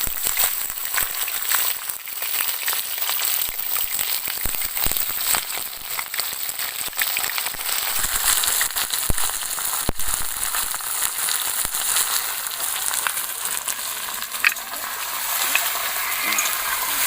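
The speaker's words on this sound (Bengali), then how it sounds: "চিকেনটা আমি খানিকক্ষণ তেলের সাথে ভেজে নেব।" Sizzling of 1.5 kg chicken pieces frying in hot oil in a village kitchen, a steady dense crackle with scattered pops that runs continuously and fairly loud throughout.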